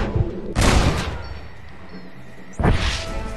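Two gunshots fire in the Red Dead Redemption video game, each a loud, close boom about two seconds apart, with quieter game ambience between them.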